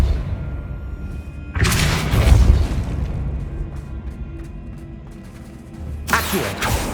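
Depulso spell blasts in Hogwarts Legacy, a loud booming burst around the two-second mark followed by a fading rumble, with a second sharp blast near the end.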